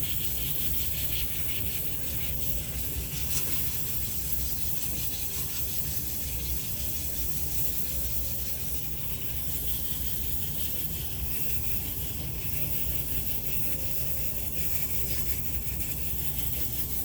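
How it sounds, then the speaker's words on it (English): Continuous hissing rub of a power sander on a turned limba wood bowl, the sandpaper cutting unevenly with a faint pulsing, steady and close throughout with no voices. "Hear that pulsating? Look, the sandpaper's not cutting evenly."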